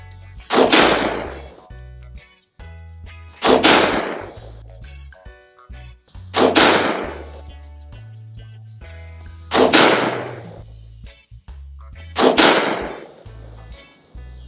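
A Glock 19X pistol fires 124 grain Federal HST rounds outdoors: five sharp, loud single shots spaced about three seconds apart, each followed by a short echoing tail and quiet handling noise between them.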